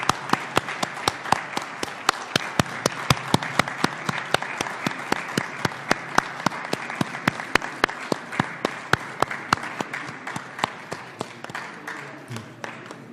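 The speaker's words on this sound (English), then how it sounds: "give them a round of applause and a standing ovation" An audience at a parliamentary gathering gives sustained applause and a standing ovation, dense clapping that stays steady and close for the whole stretch, with sharp individual claps standing out as it gradually thins toward the end.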